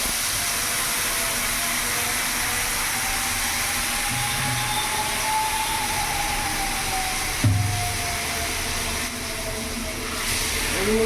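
Ground mustard spice paste frying in hot oil on a lowered gas flame, a steady, loud broadband sizzle and hiss that holds throughout with a brief bump partway.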